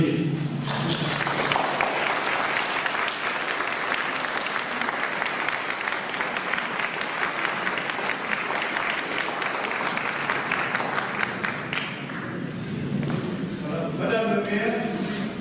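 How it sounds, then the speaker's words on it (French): A church audience claps steadily for a long stretch, a dense patter of many hands that stays fairly even, with a voice breaking in near the end as the applause fades. "je vous demanderai de l'applaudir"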